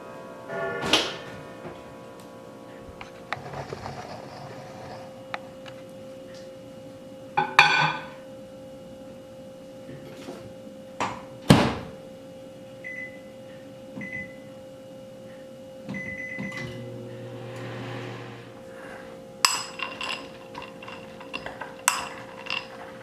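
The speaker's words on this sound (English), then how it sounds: "I'll place them in my microwave to melt" A microwave oven melting a bowl of chocolate mini morsels runs with a steady low hum, broken by scattered clinks, ticks and a short beep, heard close in a quiet home kitchen with no talking.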